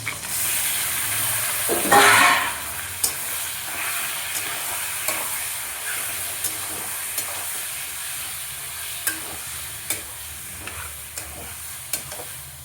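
Bombay duck fish added to frying onions in a pan, a burst of loud sizzling followed by steady frying and repeated scraping stirs of a spatula.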